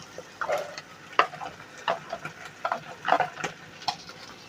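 Chicken frying in a pan with salt and ground pepper, stirred in irregular scraping strokes with soft taps of the utensil over a faint sizzle, close and moderately loud, no voices.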